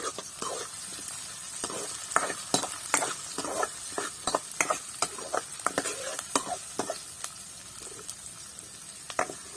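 Wild tuber and yam curry frying in a pan over an outdoor fire, a continuous sizzle broken by frequent scraping stirs of the ingredients, close and fairly loud with no talking.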